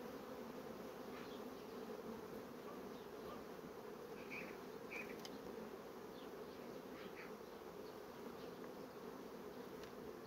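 A dense, steady drone of many honeybees buzzing around a hive, continuous and even throughout, with no voices.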